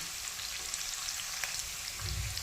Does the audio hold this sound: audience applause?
no